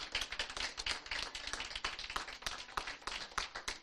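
A church congregation claps for the Lord during a Sunday sermon, a rhythmic, fairly brisk run of claps that pulses evenly throughout, moderately loud with no speech over it.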